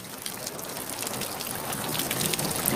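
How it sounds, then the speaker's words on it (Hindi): Steady rain falls outside a home during the rainy season, a dense hiss of drops spattering on surfaces that builds slightly, with no voices. "बाहर बारिश का इतना अच्छा मौसम हो रहा है"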